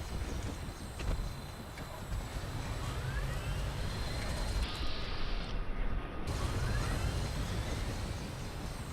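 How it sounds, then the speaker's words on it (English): A vertibird aircraft from Fallout 4 comes in to land with a continuous loud, broad rotor-and-engine roar and a rhythmic thudding pulse, staying near and steady throughout. "Jeez, two vertibirds landing right next to each other."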